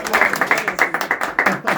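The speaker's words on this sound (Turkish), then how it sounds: "Çok alkışlayacaksınız abi" A small group of people clapping in a studio quiz show, a short burst of quick, uneven applause lasting under two seconds, with voices mixed in under it.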